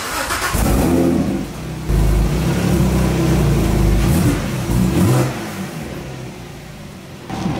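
A car engine revs hard and loud, holding a steady roar with surges and a brief dip, as the car pulls away close by; no talking.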